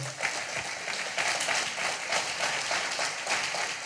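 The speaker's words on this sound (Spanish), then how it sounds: "¿Alguien da un aplauso al Señor por eso?" A congregation at a church conference session applauds in praise. The clapping is steady, moderately loud and continuous for a few seconds.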